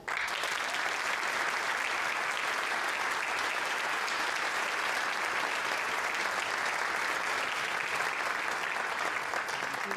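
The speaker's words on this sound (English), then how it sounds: "please give a warm round of applause for Mr. Oliver Peart" A concert audience applauding a performer at a holiday jazz show, a long, even roar of many hands clapping that holds steady and loud for the whole stretch without voices.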